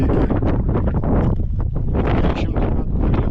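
Loud, gusty mountain wind near a pass on the Tour du Mont Blanc buffeting the microphone in heavy rumbling blasts, continuous and close.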